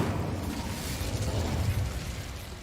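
A fire spell cast in a Harry Potter video game, a steady roaring blast of flame that holds loud and even for the whole stretch, with a low rumbling body and no talk over it.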